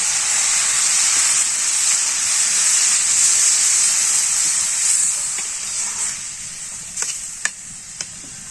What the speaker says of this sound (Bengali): ভাজা শেষ, এখন পরিমাণ মতো জলটা দিয়ে দিই।